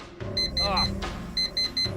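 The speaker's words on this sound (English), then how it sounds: "This fucking alarm clock." Repeating electronic beeps of an alarm clock in the video game Actual Sunlight, short bursts in a steady pattern, fairly close and loud, with a brief vocal sound mixed in.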